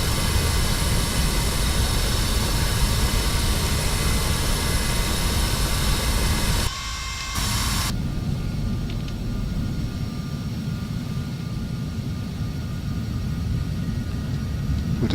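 Bombardier jet taxiing in the FSX flight simulator, a steady loud jet engine whine and roar running throughout, with a brief dip and shift in tone partway through.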